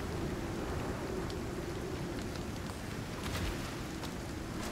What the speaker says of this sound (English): But there is a storm going on, so we do need to bear that in mind.